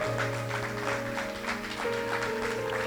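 Steady applause from a crowd fills the whole stretch over a sustained musical tone, with no talking on top.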